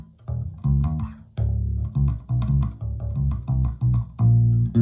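Bass guitar plays the bass line of a song alone, with punchy, clearly separated low notes in a syncopated repeating groove and short gaps between phrases.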